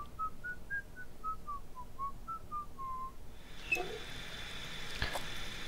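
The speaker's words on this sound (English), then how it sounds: "I can't whistle like this." A person whistling a slow, wandering melody of short separate notes for about three seconds, fairly faint over a hissy background, followed by scattered soft clicks and a sharp tap.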